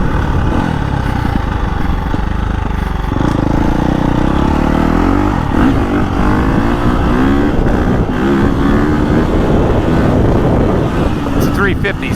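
A KTM 350 XCF dirt bike engine revs up and down, heard through heavy, roaring wind buffeting on the microphone.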